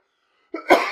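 A single close, sharp cough rises abruptly out of silence and trails off quickly.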